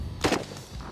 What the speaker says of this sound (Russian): я приступаю к практике стрельбы из крупнокалиберного охотничьего карабина «Сайга». Стрельбу начали.